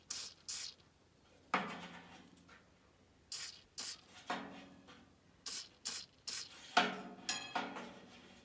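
Short hissing bursts from an aerosol lubricant spray can aimed at a motor set bolt during an ECM blower motor install on an ICP Comfortmaker unit, several quick squirts separated by pauses, close and fairly quiet.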